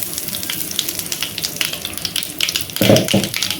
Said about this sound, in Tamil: கடுகு பொரிஞ்சோன்னே